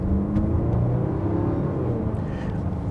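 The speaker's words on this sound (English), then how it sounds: "the engine noise, I don't know if you can hear it. It is a little bit quiet." A 2024 Jaguar F-Pace P250 engine gently accelerates from inside the cabin, giving a steady, fairly loud low rumble and whir with no talking.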